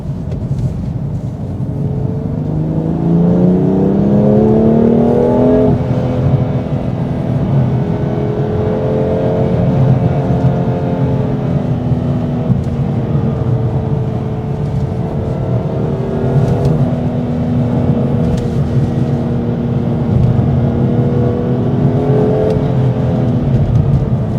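A BMW M2 Competition with the S55 engine on a morning drive, heard from inside as a loud, continuous drone that rises through the gears, settles into a steady cruise, then climbs again.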